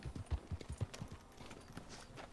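Horse hooves clip-clopping in the video game Red Dead Redemption 2, a quick run of close, distinct hoof thuds in an uneven gallop rhythm that thins out into quieter steps.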